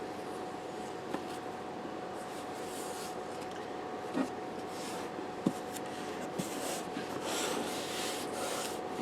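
Tape on a cardboard box is rubbed down with a burnishing tool in a steady, quiet scraping, with a few faint knocks scattered through it.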